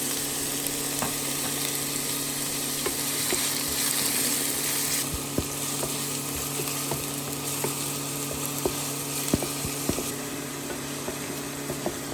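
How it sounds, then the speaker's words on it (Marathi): Finely chopped onion fries in about five tablespoons of hot oil in a pan, a steady close sizzle with occasional sharp clicks of stirring, no voices over it. "आता घालता कांदो बारीक शिनलेले आसा"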